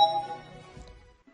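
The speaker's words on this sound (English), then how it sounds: "Doorbell." A doorbell chime in the video game Sunrider Mask of Arcadius: a single bright ding that rings out and fades quickly, heard alone.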